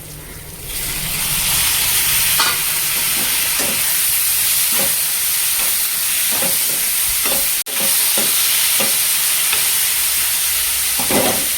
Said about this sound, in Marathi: आता मी यामध्ये टॅमॅटो टाकणार आहे